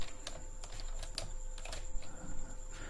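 Code is typed on a computer keyboard, heard as a quiet, irregular patter of individual key clicks at close range over a low hum, with no talking.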